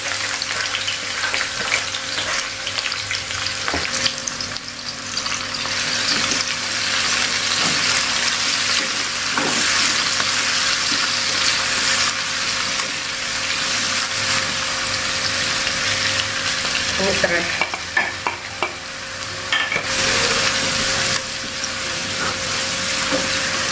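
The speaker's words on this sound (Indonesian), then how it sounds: "Gue ini mau goreng bumbu. Ini ada bawang merah, bawang putih, dan jahe." A spice paste of shallots, garlic and ginger frying in hot oil, giving a loud, continuous sizzle with occasional stirring clatter throughout, and no one talking.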